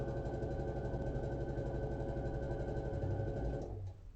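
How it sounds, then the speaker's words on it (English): A sewing machine runs steadily and loudly at close range as it stitches a diagonal seam across a quilt block, with an even mechanical hum that winds down just before the end. "So I'm going to sew down the diagonal on both of these."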